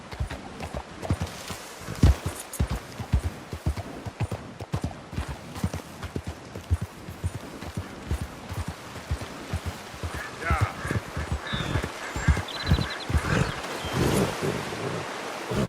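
Horse hooves clip-clop steadily in a video game, a brisk run of close, sharp hoofbeats that carries on throughout with a soft watery wash behind, louder and busier toward the end.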